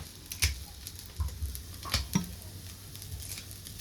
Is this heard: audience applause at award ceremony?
no